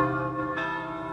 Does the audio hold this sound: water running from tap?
no